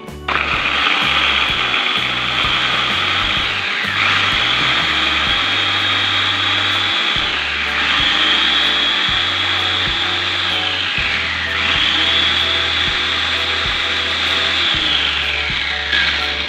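Garlic and curly chilies being blended into a paste without added water, a loud continuous motor drone with repeating rising and falling pitch sweeps and rhythmic churning and knocking underneath.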